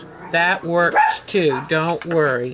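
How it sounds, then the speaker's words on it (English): Several dogs bark outside through open windows, repeated close, loud yaps in quick bursts over someone talking. "I'm sorry for the dogs barking."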